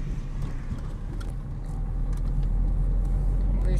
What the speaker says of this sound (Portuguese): Olha o trânsito da rodovia aí, gente.